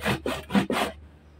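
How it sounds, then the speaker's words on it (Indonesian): Hand saw cutting through plywood, four quick rasping strokes back and forth at close range, then the sawing stops and leaves near silence. "Di sini aku gergaji dulu dari samping sana ke samping sini."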